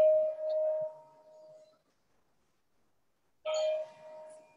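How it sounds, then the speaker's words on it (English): Resonant church bells with a steady ringing pitch, fading into a brief quiet before another strike rings out, slightly distant, in Venice. "The bells are ringing and mass is starting."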